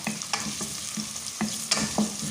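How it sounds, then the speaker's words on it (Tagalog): Garlic, onion and ginger sizzle steadily in hot oil for mung beans, with a spoon stirring and scraping in quick, close taps over the constant frying hiss. "lunod ko na po yung garlic, onion, and ginger"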